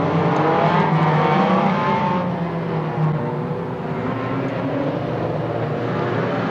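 Race cars, including a Ginetta G40R, roar past on a circuit, a loud continuous engine drone that shifts pitch as the cars pass and fades slightly.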